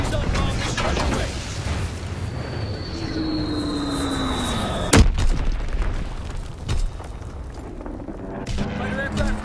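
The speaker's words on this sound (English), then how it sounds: "Enemy bomb incoming!" Enemy bombs land in a video game battle, a sharp explosive crack partway through amid rumbling, descending whistling tones and a steady wash of combat noise, with game voices calling out over it.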